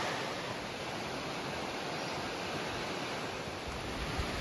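High water rushing through a stream crossing on the Appalachian Trail, a steady, dense, broadband roar that stays loud and unbroken throughout, with no voices.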